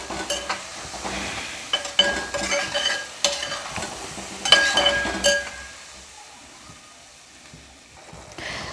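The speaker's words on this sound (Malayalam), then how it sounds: "തൈര് ഒഴിച്ചിട്ട് നന്നായിട്ട് തിളച്ചു." Curd (yogurt) bubbling and cooking in a pan for a kovakka kichadi, with busy stirring scrapes and light clinks of a spoon against metal over a steady sizzle that fades to a softer simmer near the end.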